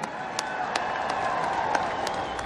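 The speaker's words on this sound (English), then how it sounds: "Let's hear another round of applause for the fantastic Misha Brugger-Gossman and" A crowd at an outdoor Christmas lights event applauds a youth choir, producing a sustained wash of clapping with scattered cheers heard from a distance.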